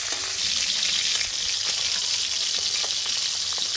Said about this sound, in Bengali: এখানে আমার তেলটা গরম হয়ে গেছে, এবার আমি মাছগুলো ভেজে নেব।